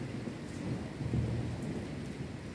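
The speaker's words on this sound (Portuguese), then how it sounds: "Tá tendo relâmpago e trovão," Steady rain with a low rumble of thunder on a dark evening outdoors during a lightning storm, a continuous moderately loud wash with no talking.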